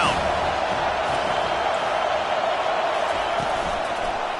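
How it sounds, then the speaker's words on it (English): A dense football stadium crowd roars steadily in support of the defense on third down, a loud continuous wash of cheering and whooping with no breaks. "Decibels rising as the crowd gets behind this defense on third down."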